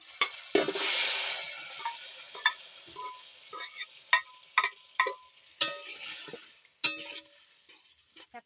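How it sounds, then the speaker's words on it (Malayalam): Ghee poured into a hot pan for a jackfruit and jaggery preserve bursts into a loud, close sizzle that fades within a second or two. Crisp metallic clinks of a stirring spoon against the pan follow at uneven intervals. "ഞാൻ നെയ്യ് ഒഴിച്ചു കൊടുക്കുകയാണ്"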